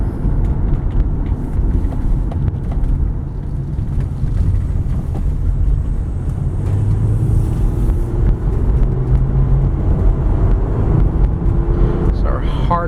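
A 1998 Honda Accord EX V6 rolling over rough, potholed, uneven pavement, giving a steady low road rumble and tire noise with faint cabin wind throughout.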